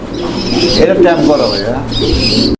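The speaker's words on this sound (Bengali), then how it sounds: "এখানে একটা সিঙ্গেল কবুতর আছে" A pigeon gives a close, throaty cooing with soft warbling tones at a pigeon sale, mixed with some background voices and noise.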